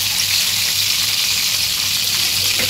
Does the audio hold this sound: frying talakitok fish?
yes